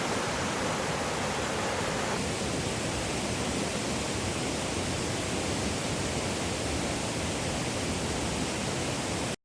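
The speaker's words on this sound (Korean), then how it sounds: "며칠 전에 집중호우로 계곡물이 많아서 참 좋네요" A mountain valley stream at Gariwangsan recreation forest, swollen after heavy rain, rushes as a dense, constant roar of water that fills the whole scene at steady loudness, with no voices.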